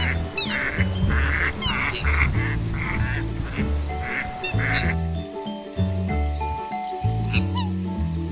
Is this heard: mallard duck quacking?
yes